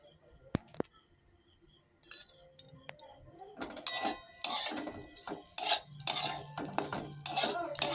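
Semolina upma with a little sugar is stirred in a pan: a few isolated metallic clinks at first, then busy, close scraping and clattering of a spoon against the pan.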